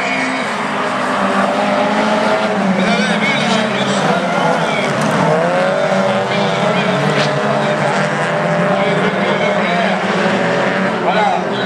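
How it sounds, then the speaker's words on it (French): A Renault Mégane Coupé competition car accelerates hard at a Lessay autocross event, its engine roaring loudly and continuously while an excited commentator talks over it. "le coup d'accélération de Gilles Thiron"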